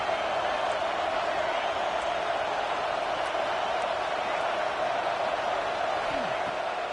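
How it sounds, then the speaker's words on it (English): A football stadium crowd at an Oregon versus Michigan State game roars in a dense, continuous wash of cheering, loud and unbroken, as a commentator's voice runs over it. "Listen to this crowd just shaking the girders of this place"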